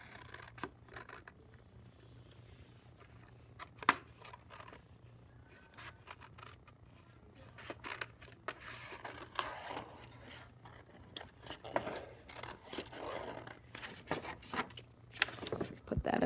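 Scissors snip out painted paper leaves for a collage in a run of soft, faint, irregular cuts and rustles, close by and quiet, with some talk in the background.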